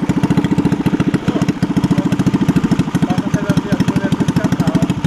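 A motorcycle with a broken exhaust revs loudly up close, its rapid, coarse popping putter pulsing steadily and rising and falling slightly with the throttle.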